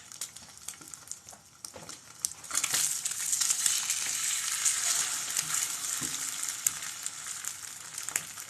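Seasoned sausage gravy is stirred in a hot pan, with a steady sizzle that grows louder as the spoon scrapes and pushes it around, and occasional soft clinks.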